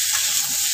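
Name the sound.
potatoes frying in mustard oil in a wok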